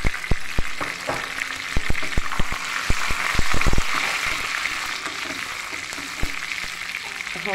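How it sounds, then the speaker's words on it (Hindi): Cumin, red and green chillies and curry leaves hit hot desi ghee, setting off a loud, close sizzle with rapid sharp pops and crackles that gradually settle into a steady frying hiss. "तो देसी घी का तड़का हम लगाएंगे अब।"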